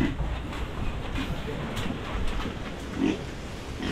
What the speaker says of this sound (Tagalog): Nasa 40 plus mga baboy natin.